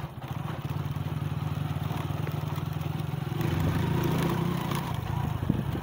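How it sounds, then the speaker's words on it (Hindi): A motorbike rides along a rural track toward a farm, its engine putting out a steady mid-range drone with rattling clatter, briefly swelling louder partway through, with no talk over it. "हम बाइक पे जा रहे हैं, आप देख सकते हैं।"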